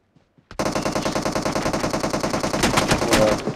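Rapid automatic gunfire in a video game, a dense continuous burst of shots lasting about three seconds, loud and close, with a few sharper cracks near the end.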